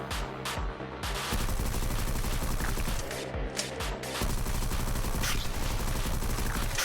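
Rapid video game gunfire aimed at barrels, loud continuous bursts of automatic shots with brief pauses near one and four seconds before resuming.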